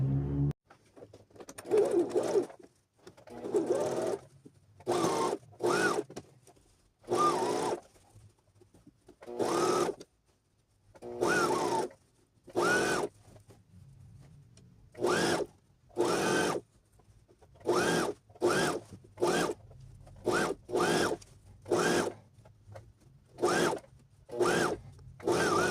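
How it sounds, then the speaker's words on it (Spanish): Sewing machine stitching trouser seams at a 1 cm allowance, running in repeated short bursts of whirring with brief pauses between, close and clear with no talk. "Vamos a coser en este caso a 1 centímetro."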